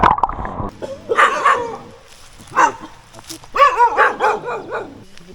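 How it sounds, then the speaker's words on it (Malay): A dog on a hiking trail to a waterfall in Malaysia gives several close barks and yips in short bursts, mixed with people talking nearby. "Ni anjing tu patah balik."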